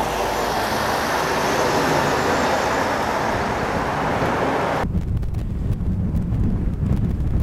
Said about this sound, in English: The wind's picking up a bit now.